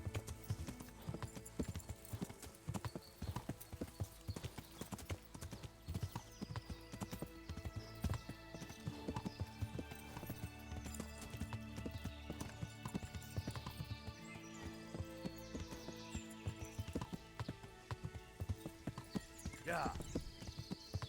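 Horse hooves clip-clop at a steady walking rhythm in the video game Kingdom Come: Deliverance, continuous and fairly close over a soft game backdrop, with a brief whinny-like cry near the end.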